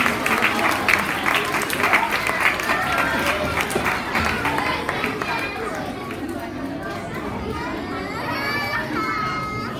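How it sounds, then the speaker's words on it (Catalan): A school audience applauds a class poetry prize winner, sustained broadband clapping lasting about ten seconds, mixed with children's voices and chatter throughout. "Un fort aplaudiment per Leo."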